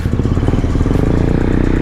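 A motorcycle engine drones loudly and continuously at close range during a morning group ride toward Chhapara hills, with a rough, rumbling, wind-buffeted tone.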